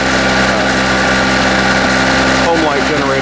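Harbor Freight portable generator engine running steadily, a loud continuous buzzing drone heard close by the exhaust side with no let-up, a slight change in tone just past the midpoint.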